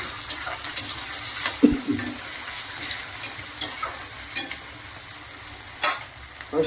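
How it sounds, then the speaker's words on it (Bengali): Onions frying in a pan for Bengali fish pakora (mach peyaji), giving a steady sizzle with occasional stirring scrapes and a sharp utensil knock near the start, close and without talk. "পেঁয়াজটা বসিয়ে দিলাম"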